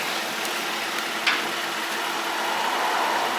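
A BMW X5 engine idles steadily with a smooth, continuous hum, joined by one brief click partway through.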